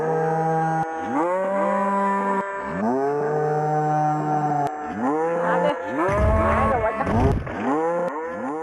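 Cow mooing in the video game Deer Simulator, a series of long, loud lowing calls repeated one after another, with a rougher overlapping bellow near the end.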